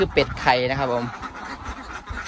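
Laying ducks quack nearby in a short nasal burst, with someone talking over and after them in the background.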